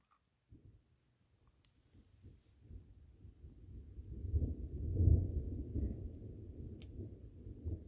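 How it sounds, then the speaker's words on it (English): Distant thunder during a day hike in aspen and pine country: a low rolling rumble that builds slowly, peaks midway and fades off, faint and far away, with no talking. "And there's the thunder."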